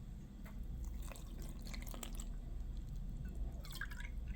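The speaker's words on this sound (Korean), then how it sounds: "부침가루에다가 계란 하나 넣고 물" Water pouring steadily into Korean pancake batter mix of frying flour and one egg for seafood and green onion pancake, a soft trickle with light dripping close by throughout, no talking.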